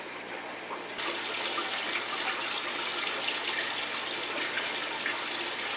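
Water gushes steadily into an aquarium holding fry and endlers, a continuous close hiss and splash that grows louder after a second and then holds unbroken.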